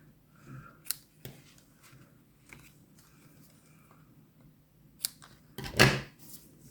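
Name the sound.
scissors cutting ribbon tails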